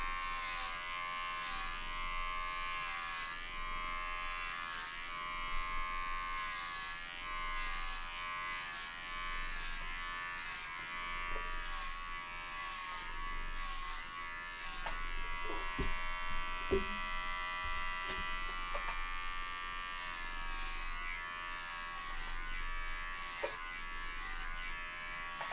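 Electric clippers buzz steadily against a cat's fur during grooming, a close, continuous whirring hum with slight shifts in pitch as the blades move, no talking.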